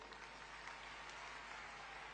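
A crowd at a political rally in Bodeli, Gujarat, claps in distant, even applause, faint and steady throughout with no voices over it.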